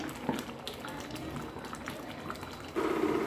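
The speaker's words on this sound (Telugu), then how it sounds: "ఇప్పుడు ఈ కర్రీని బాగా ఉడికించుకోవాలన్నమాట మూత పెట్టేద్దాం" Masala curry simmering under a lid in a covered pot: a soft, steady bubbling hiss throughout, swelling into a louder, denser bubbling near the end.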